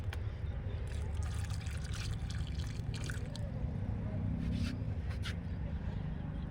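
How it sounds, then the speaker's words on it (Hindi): Water being poured into glasses holding newly planted bottle gourd seedlings, a continuous trickling splash with a steady low rumble beneath, and a voice talking intermittently. "इसके इस तरह से गोल घेरा बना के पानी भरे दे रहे हैं"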